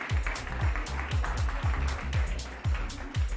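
Audience applause at a startup pitch demo day, a dense wash of clapping that fills the room alongside a steady, thumping music beat.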